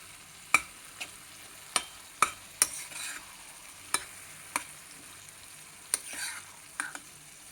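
Brinjal pulp being stirred in a frying pan, a spatula scraping and tapping the metal in sharp irregular strokes over a faint, low sizzle close by.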